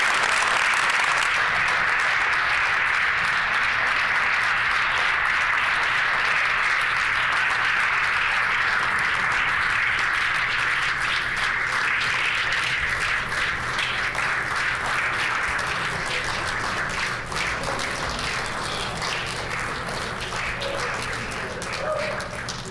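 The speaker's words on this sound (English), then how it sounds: "Keep clapping." Sustained applause fills the Manitoba legislative chamber after a throne speech, a dense, steady roar of clapping from many members that holds for over twenty seconds and eases slightly toward the end.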